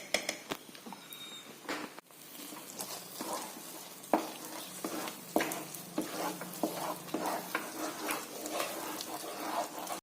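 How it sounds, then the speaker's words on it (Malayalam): Ghee sizzles and crackles in a pan, with sharp clinks and scrapes of stirring breaking through the steady hiss. "രണ്ട് സ്പൂൺ നെയ്യ് ഒഴിച്ചു"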